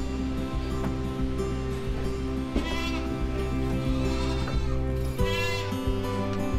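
A goat in pain from an abscess on its left hind leg bleats a few times over a steady low droning hum. The bleats rise clearly above the hum, near and moderately loud.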